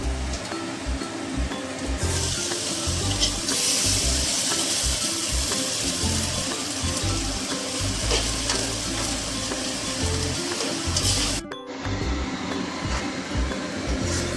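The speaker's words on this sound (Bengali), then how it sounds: "এখানে সকল ধরনের মশলা দিয়ে আদা রসুন বাটা পেঁয়াজ বাটা সবকিছু দিয়ে এটাকে এখন কষানো হবে" Spices, ginger-garlic paste and onion paste sizzle loudly and steadily as they are sautéed and stirred for chicken curry, a continuous close frying hiss that cuts out briefly near the end.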